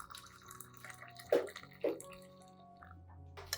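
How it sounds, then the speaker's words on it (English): Hot water, 500 milliliters, poured into a glass cup holding rice powder, with faint splashing and two brief louder pours amid quiet dripping, heard up close. "Pour in 500 milliliters of hot water to dissolve the rice powder and help release the nutrients more"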